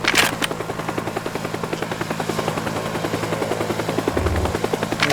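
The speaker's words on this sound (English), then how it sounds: "Where's that helicopter?" A police helicopter flying in the video game Teardown, with rapid, steady rotor chopping over a low engine drone, loud and close throughout, and a couple of brief sharp bursts at the start.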